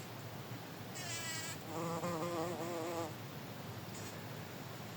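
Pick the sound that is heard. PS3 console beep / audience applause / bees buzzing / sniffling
bees buzzing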